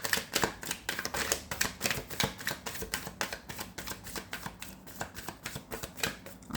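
Tarot cards are shuffled and drawn in a rapid run of crisp, close riffling snaps and taps, quiet and steady without talk.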